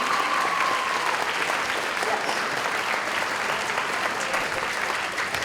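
Students in a concert audience at a middle school winter concert break into sustained applause, dense and even clapping that fills the whole stretch, with a brief voice heard near the start.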